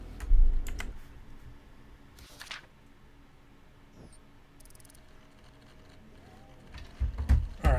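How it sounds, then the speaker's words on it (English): Computer keyboard typing during a shooter gameplay session, a few loud close clusters of key clacks at the start and end with sparse single taps and mouse clicks between, no voices. "You guys might hear the keyboard though"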